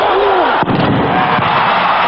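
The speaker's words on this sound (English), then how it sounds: "The roar of the cannon, the roar of the crowd." A cannon booms at Jack Murphy Stadium in San Diego after a Holiday Bowl college football game, one loud blast within a dense, sustained roar of the crowd.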